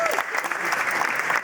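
Wedding guests clap and cheer, a burst of lively applause with crowd noise filling the room, while a voice briefly rises over it at the start.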